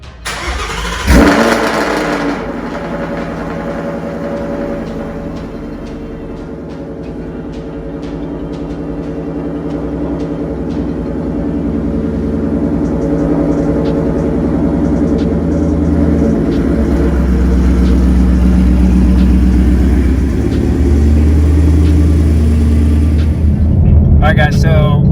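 A 2019 car fitted with lowering springs being driven at night, its steady engine and road rumble building gradually and continuing throughout, with a sharp thump near the start and talk in the cabin.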